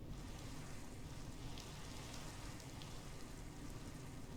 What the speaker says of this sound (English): it's always raining every single time